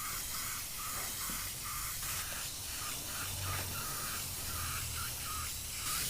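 Thinned white base coat paint sprayed through a stencil onto a killer klown figure, an airbrush giving a steady fine hiss broken by short repeated bursts, fairly quiet and continuous with no talking.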